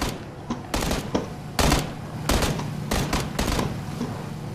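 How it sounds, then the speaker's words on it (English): Gunfire in the battle royale game PUBG: a loud burst of several sharp shots in quick irregular bursts, close and broadband, over steady game ambience with no talk. "Somebody just shot at us from the right."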